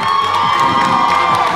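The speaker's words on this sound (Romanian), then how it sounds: "Simona, pentru voi vă rugăm aplauze." A crowd at a high school freshman ball cheers and applauds for Simona, a loud, dense roar of shouting and clapping that stays constant throughout.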